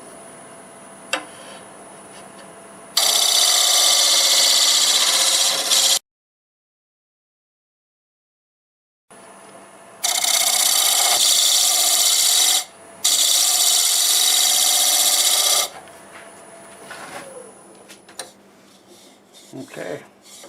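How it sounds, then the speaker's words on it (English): A scraper tool cuts a natural-edge maple burl spinning on a wood lathe, loud rasping scraping in two long bursts separated by a silent gap, then quieter handling noises. "Need to scrape from here to the bottom."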